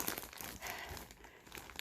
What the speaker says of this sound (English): There's some plastic bags in a plastic bag.